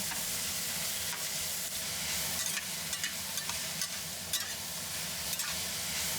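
Napa cabbage stems, Thai pepper and mushroom frying in hot oil, a loud continuous sizzle and hiss close up, broken by occasional soft stirring scrapes.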